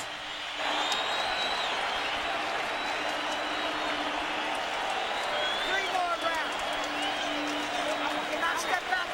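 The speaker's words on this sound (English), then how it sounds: "They're on their feet, standing and applauding both fighters." Boxing arena crowd during a Fernando Vargas vs Felix Trinidad fight stands and applauds both fighters, a steady wash of clapping and crowd noise heard under a commentator's voice.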